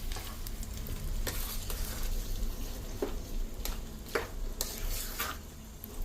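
Tempering for gongura pickle sizzles steadily in a pan while a spoon stirs and scrapes, with several sharp clinks against the metal over a continuous, close frying hiss.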